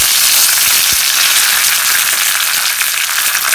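Shallots, dried red chili and curry leaves tempering in hot oil for a street-cart watery chutney, giving a loud, continuous bright sizzle close up with no voices over it.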